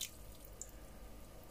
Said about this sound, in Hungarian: nincs más dolgunk, mint hogy felöntsük vízzel